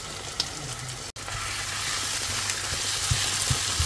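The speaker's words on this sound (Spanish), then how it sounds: "vamos a añadir el pollo que lo he cortado en trozos pequeños" Small chicken pieces fry in a pan with onion, salt and ground black pepper, giving a steady, close hiss and crackle with occasional stirring clicks, sizzling continuously with no talking.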